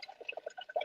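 A coffee pot gurgles faintly, with a quick run of small bubbling, burbling pops close by in a quiet room.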